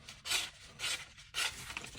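A sharp knife blade slicing through material in a cutting test, three distinct rasping strokes in a loose rhythm, close and fairly quiet with no talking.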